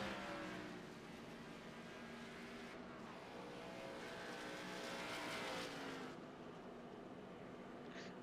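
Race cars roaring around Kansas in an ARCA series race within a racing video game, a dense continuous engine drone with shifting harmonic whines as cars pass, steady and fairly loud with no talking.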